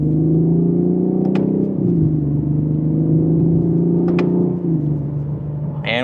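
Lexus IS350 F Sport in sport mode and second gear pulls under steady acceleration, a loud, close, continuous engine rumble with a brief dip as the revs settle, then holding strong to the end.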